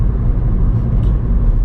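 A SEAT Ibiza FR's engine and exhaust rumble steadily and loudly up close, a continuous low drone running without any voices.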